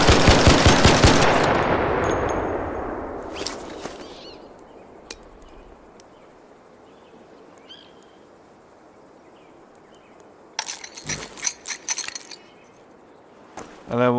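Bursts of automatic gunfire from a Bettina rifle fitted with a muzzle brake in a video game, a loud volley at the start, then sparse shots and a rapid cluster near the end over quiet background.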